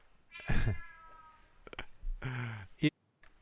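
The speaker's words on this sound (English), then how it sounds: "my cats are going bananas" Cats meow loudly indoors in several separate, drawn-out yowls with a clear gap between them; one or two short vocal bursts mix in.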